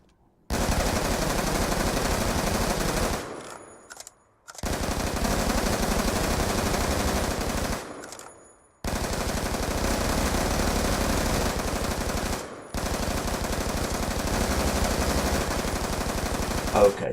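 Automatic gunfire from a video game comes in four long, loud, continuous bursts, separated by brief gaps where fast magazines are reloaded with short mechanical clicks.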